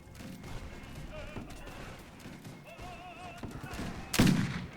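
Musket volley fire in a Napoleonic battle in Mount & Blade: Warband, with scattered distant shots crackling before one loud, sharp volley bursts near the end.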